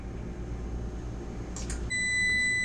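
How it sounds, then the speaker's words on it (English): A kitchen oven timer beeps with a steady, bright, sustained electronic tone near the end, after a stretch of low kitchen hum, while chicken and pork bake. "there's the timer"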